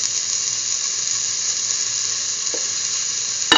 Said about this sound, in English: Now put in the shallots